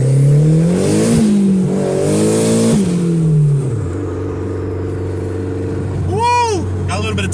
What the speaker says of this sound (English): Oh, it feels pretty spicy. All kinds of nice turbo noises.